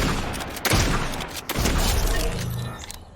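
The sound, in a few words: mythic infiltrator pump shotgun shot in Fortnite video game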